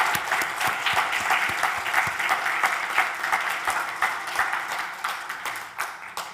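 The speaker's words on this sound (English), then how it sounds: "Can we give a quick round of applause?" An audience at a professional talk on peer support for people with inherited sight loss gives a quick round of applause for the panel members. The clapping is close, brisk and steady, with no speech over it.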